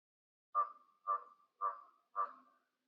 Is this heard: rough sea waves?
no